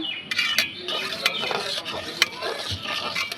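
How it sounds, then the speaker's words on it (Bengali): A pot of bhog khichuri is stirred continuously over a medium flame, the spoon scraping and clinking against the metal in an uneven rhythm over a soft simmering sizzle, close and fairly quiet, with no talking. "শুধু অনবরত নাড়াতেই হবে নাহলে যে এ পর্যন্ত উঠে গেছিল"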